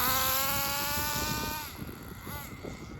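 A small HPI RS4 nitro RC car engine idles while warming up in a parking lot, a loud high-pitched buzzing whine that holds steady, then drops and sputters unevenly into a rougher, lower burble.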